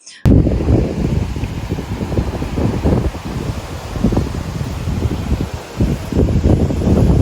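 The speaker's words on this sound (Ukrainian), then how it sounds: "сьогодні шалений вітер" Strong gusty wind on a German Baltic Sea beach buffets the microphone in uneven bursts, rumbling and rising and falling throughout.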